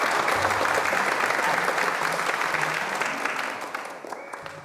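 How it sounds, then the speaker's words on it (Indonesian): Dense crowd applause with steady clapping hands at a local village gathering, loud and sustained before gradually fading away, with faint voices underneath. "Ayo tepuk tangannya."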